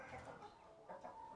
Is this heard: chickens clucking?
yes